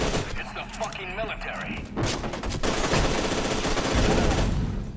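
Gunfire rattles in F.E.A.R. 2, a dense, loud burst building through the second half over music and game noise, with a voice speaking near the start.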